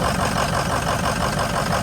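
A car's steady engine idle with a constant low rumble and a breathy, hissing exhaust leak at the up pipe, running continuously without pause.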